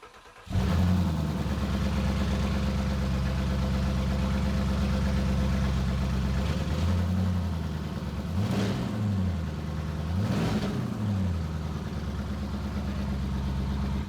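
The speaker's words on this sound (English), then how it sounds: "Let's do the test to see if it cranks." A twin-turbo V8 in a Porsche Cayenne 957 cranks briefly, catches and settles into a loud, steady idle, with two short revs swelling partway through; close and continuous, with no talking.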